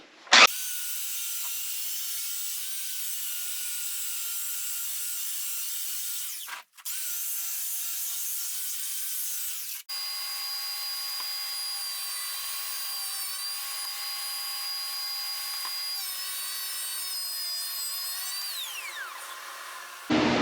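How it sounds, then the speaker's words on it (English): A belt sander works across glued plywood during a broken bed repair, making a steady high, whining grind that breaks off briefly twice and then runs on before stopping. "I used the belt sander a little bit to get some of the bigger chunks off"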